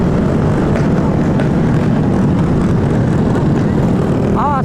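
A fast motorbike roars along a busy Jakarta street, its loud engine noise steady and broad throughout, as if passing close by amid heavy traffic.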